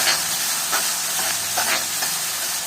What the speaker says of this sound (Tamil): இஞ்சி பூண்டு பேஸ்ட்டு சேர்த்து வதக்கிக்கலாம்